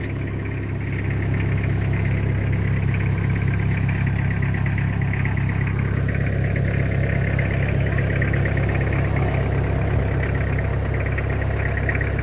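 A heavy truck engine, on a truck stuck in mud, rumbles steadily, loud and close, a continuous low drone with no break and no talking.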